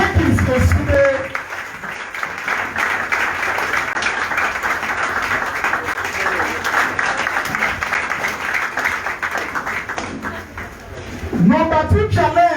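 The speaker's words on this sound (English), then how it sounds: "Abeg make una have a clap for the mayor of Irade, the local government chairman, Honorable Jackie Oside." A market crowd at a Nigerian traders' welfare union gathering claps for the local government chairman. The clapping runs in a long, dense, steady roll, fairly loud, with a voice speaking at the start and again at the end.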